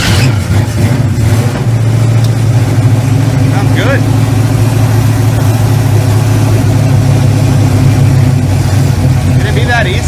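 A car engine fired up after fuel pump work on a roadside project build, settling into a steady, loud idle with a low rumble, while a person speaks briefly over it.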